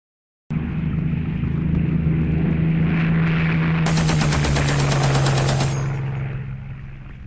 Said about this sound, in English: You blast away at the Japanese aircraft with your Lewis machine gun